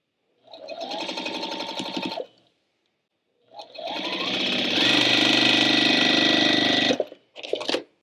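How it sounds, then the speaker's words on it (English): A sewing machine stitches quilt rectangles with a quarter-inch seam in bursts: a two-second run, a pause, a longer steady whir of about three seconds, then a brief final spurt, close and loud. "sew all along here with 1/4 inch"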